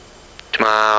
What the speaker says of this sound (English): you'll hear me playing around with the engines here for most of these